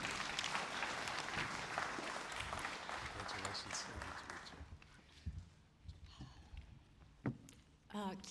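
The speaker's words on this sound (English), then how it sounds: "A round of applause for our next speaker, Professor Cleona Nimerchu." Symposium audience applauding a speaker: a dense patter of clapping fills the first few seconds, then thins into scattered claps and shuffling room noise as it dies away.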